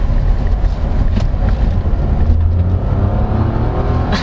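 A 2024 Nissan Almera VL Turbo CVT subcompact sedan drives over a rough stretch of road, giving loud, continuous interior road rumble with scattered suspension knocks and thumps.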